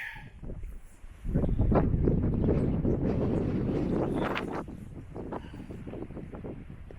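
Strong wind gusts across open desert terrain near Cathedral Valley in Capitol Reef, buffeting the microphone with loud, rough rumbling that surges after a second and then eases to a steadier blow.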